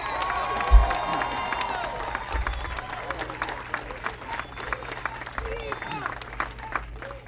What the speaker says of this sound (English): Let's give Peter Ward a round of applause.